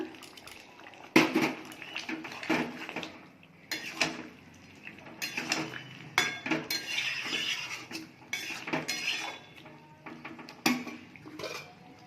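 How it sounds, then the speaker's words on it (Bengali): A lid goes onto a pot of Indian jackfruit and prawn curry, with a series of close metallic clanks and clinks, scattered irregularly over several seconds between quieter rustling. "এবার ঢাকা দিয়ে দেব।"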